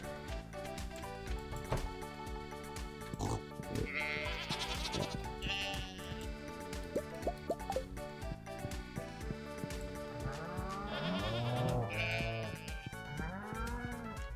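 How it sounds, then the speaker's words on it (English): Goat bleats from the Stardew Valley farm, including a baby goat, sound over a steady game music background, with several distinct bleating calls near the middle and end of the clip. "Oh yeah, I forgot I got a baby goat now."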